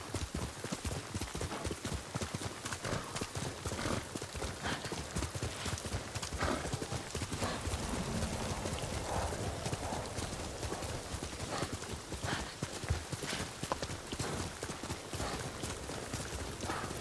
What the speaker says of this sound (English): I like a game where they give you a horse.